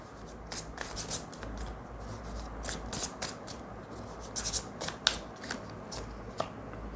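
Tarot cards being shuffled by hand from a deck, giving soft, quick riffling and rubbing strokes in irregular bursts, close and fairly quiet, with no voices.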